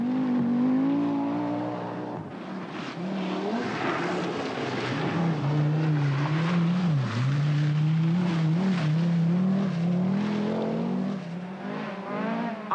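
Rally cars, an Audi Quattro and a Vauxhall Chevette, at the 1983 Castrol Welsh International Rally, engines droning loudly and steadily with shifting pitch as they drive past, revving and changing gear.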